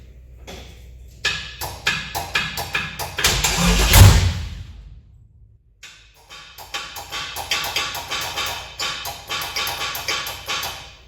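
An engine cranks on its first start-up with rapid rhythmic chugging, surges to a loud catch, cuts out briefly, then resumes cranking in a fast, uneven stutter nearby.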